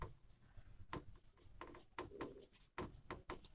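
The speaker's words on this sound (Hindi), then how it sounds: "चलो आगे एक और टॉपिक लिखते हैं" Marker or chalk writing on a board in a chemistry class, heard as a run of short scratchy strokes and taps with pauses between them, fairly quiet, with no speech over it.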